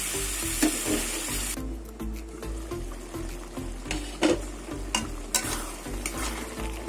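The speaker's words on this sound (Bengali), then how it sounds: "এবার আমি ঢেকে দেবো আর মশলাটা কিছুক্ষণ কষিয়ে নেব।" Tomato and spice masala for ghugni sautés in a pan, giving continuous sizzling with regular stirring scrapes and a few louder clatters of the spoon against the pot.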